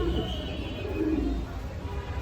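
Fancy pigeons, including Red Lahori breeding pairs kept through the winter breeding season, coo in low, soft, repeated calls under a steady background hum.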